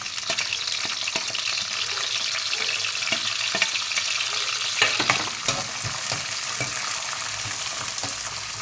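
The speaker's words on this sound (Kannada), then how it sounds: "ಸ್ವಲ್ಪ ಫ್ರೈ ಆಗಲಿ." Sweetcorn and green chilli sizzle steadily in a hot pan for a fried rice dish, with a constant hiss of frying broken by occasional sharp stirring clatters against the pan.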